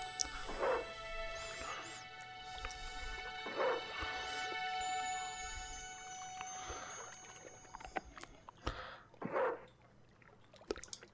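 A dog in the point-and-click adventure game Broken Sword 2, set by the docks, gives three separate loud barks spaced a few seconds apart, over steady water and harbor ambience with no talk.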